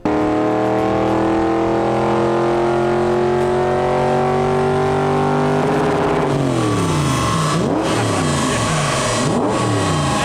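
A V8 engine in a BMW E36 roars at full throttle on a dyno, pitch climbing steadily, then wavering and bouncing through revs before dropping off; loud and close, no talk.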